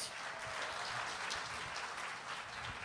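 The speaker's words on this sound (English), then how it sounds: "Please applaud the poet." A school poetry slam audience applauds a poet after scores are read, a dense, fairly faint wash of clapping throughout.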